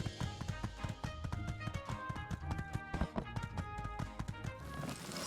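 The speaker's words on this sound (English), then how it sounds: "Lightning, you're not being a very good horse right now" Horse hooves clip-clopping steadily in the My Time at Sandrock video game, a continuous rhythmic trot under game music.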